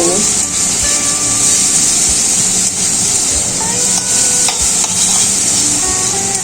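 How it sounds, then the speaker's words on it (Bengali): Rohu fish in poppy seed paste is stirred and fried in a pan, with a steady loud sizzle and hiss over scraping spoon strokes throughout. "এবার নেড়ে চেড়ে নিচ্ছি। ভালো করে একটু কষিয়ে নেব।"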